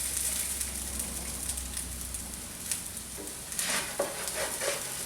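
Corn tortillas fry in oil in a pan with a steady, bright sizzle that stays loud throughout, broken by a few scraping stirs and bursts of crackling toward the end.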